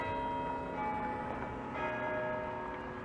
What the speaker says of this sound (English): As nice as I like the sound of those bells